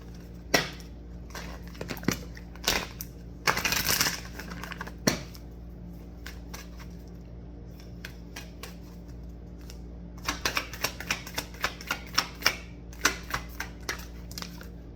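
Tarot cards being shuffled in a tarot reading, heard as bursts of crisp riffling and tapping, with a dense flurry near the start, sparse clicks in the middle and a run of quick snaps toward the end.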